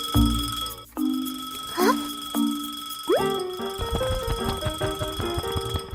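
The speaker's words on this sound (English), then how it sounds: "Suddenly, the clock starts ringing loudly." Alarm clock ringing loudly in a cartoon scene, bright repeated electronic tones and chiming notes shifting in pitch, continuous and close with no talking.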